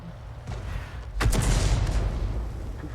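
A single deep boom from a Pz.Sfl. IVb tank gun in a tank game, starting abruptly and rolling on as a heavy low rumble after a softer lead-in.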